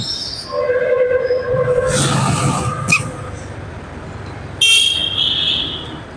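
Rumbling metro train noise from an elevated station heard from the street below, with rail clatter and a brief high squeal, steady and fairly loud, with background voices and street sounds mixed in.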